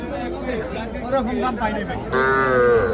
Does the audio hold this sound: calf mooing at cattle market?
yes